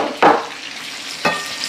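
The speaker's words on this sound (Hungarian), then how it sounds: "Érdemes egy picit mozgatni őket menet közben, annál szebben és jobban sülnek." Pieces of pork loin sizzle in a hot frying pan, with two distinct bursts of stirring about a second apart and a quieter steady fry between them, close and with no talking.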